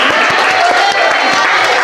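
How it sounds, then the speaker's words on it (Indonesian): Children and a teacher clap for a pupil during a classroom lesson in Indonesia, a dense, steady patter of many hands filling the room for the whole short stretch. "Ya, tepuk tangan untuk Akbar"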